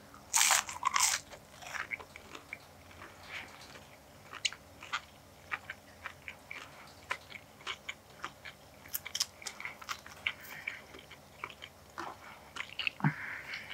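McDonald's chicken nuggets with spicy buffalo dipping sauce are eaten up close, giving repeated loud crunchy bites and wet chewing in an irregular rhythm, with no talking.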